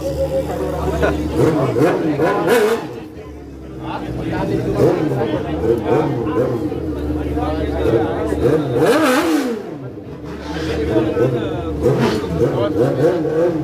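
Drag racing motorcycle engine at a drag day event, repeatedly revving and dropping in pitch, mid-distance, with crowd chatter and people talking throughout.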